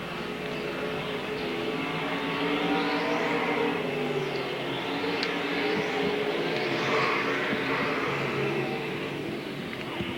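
Race cars running a heat race on the Devil's Bowl Speedway track, a continuous distant engine roar rising and falling as the pack circles.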